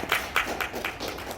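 A brief round of applause at a workshop closing ceremony, a few loose, separate claps from a small audience, close and fairly loud, tapering off after about a second.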